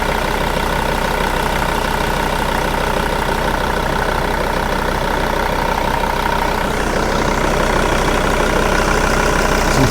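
Mercedes ML270 diesel engine idling with its covers off, a steady, loud, close mechanical drone with an even clatter throughout and no talking.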